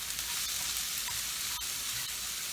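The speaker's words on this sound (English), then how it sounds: "starting to smell good, so I'm going to give this a stir" Food cooking down in a pan with a steady, bright, hissing sizzle throughout and a couple of faint stirring clicks.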